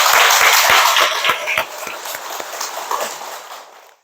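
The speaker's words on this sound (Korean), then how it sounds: "우리 모두 감사와 영광의 박수를 드렸으면 좋겠습니다" Church congregation applauding together, a loud burst of clapping with a few distinct claps up front that thins and fades away within about four seconds.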